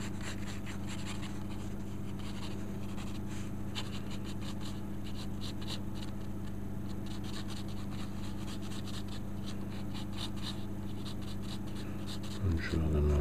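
A pencil sketches a Ghost Rider style skull on paper, drawing in the eye sockets with a steady, close, continuous scratchy rasp of graphite strokes that runs throughout, ending with a brief louder bump.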